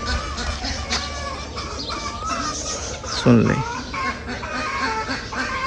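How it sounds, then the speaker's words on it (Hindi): Chickens and ducks on a farm clucking and squawking close by, with a sharper loud squawk partway through, while someone talks over the birds. "ये मुर्गियाँ और हमारी डक्स शोर कर रही है"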